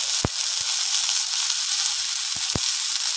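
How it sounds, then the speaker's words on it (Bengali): Prawns fry lightly in oil with salt and turmeric, giving a steady hissing sizzle with a few sharp pops and crackles, alone without talk. "চিংড়ি মাছটা একটু হালকা করে ভেজে নেবো"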